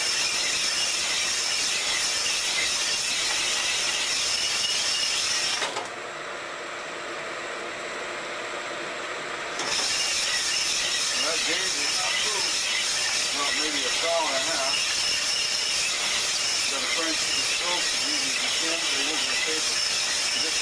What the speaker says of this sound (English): I'll fire up the steam, go on. Let's take a first pass.